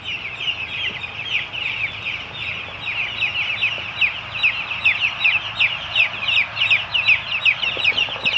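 Flock of chickens clucking together on a cattle farm, many overlapping clucks and chatter, fairly close and continuous, with no talking.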